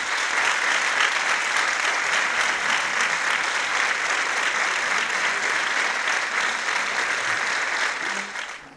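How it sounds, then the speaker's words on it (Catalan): Sustained, loud applause from a large crowd at a Valencian falla presentation, dense and even throughout, fading slightly at the end. "demane un fort aplaudiment"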